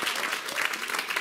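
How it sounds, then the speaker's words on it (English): A church congregation claps hands during a Sunday morning consecration service, dense, sustained applause from a crowd close by, with a voice faintly audible underneath. "Clap your hands."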